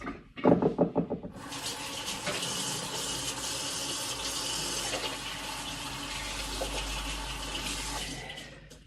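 Running tap water pours steadily into a sink while hands are washed, a close, continuous rushing wash that follows a few brief knocks and runs for several seconds before cutting off.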